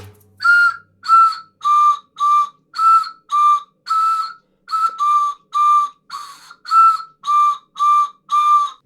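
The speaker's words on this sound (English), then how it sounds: "It sounds a bit better if you play it without the hose like a traditional pan flute" A Vangoa pan flute played without its hose, sounding a steady run of about fifteen short breathy whistled notes, each separated by a brief pause, close and fairly loud with no talking.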